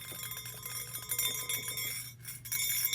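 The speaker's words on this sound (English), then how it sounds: "It's a bell!" A bell rings with bright, sustained metallic tones and shimmering overtones, struck repeatedly in a quick jingling pattern, close and clear with a brief lull before it resumes.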